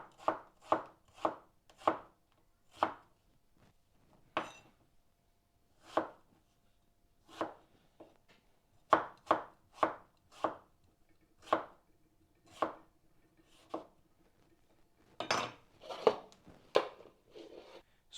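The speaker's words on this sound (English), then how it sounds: "my aubergines are chopped and they're nicely flat, diced and stuff" A knife chops aubergines on a board in a steady run of crisp, close knocks, some quick and evenly spaced, some with short pauses between. No one speaks.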